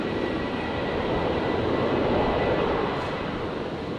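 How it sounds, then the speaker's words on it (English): A Qantas Boeing 737 on its takeoff roll at Brisbane Airport makes a broad, steady jet roar that stays strong and even for the whole stretch, without speech. "The 73 heading down to Melbourne"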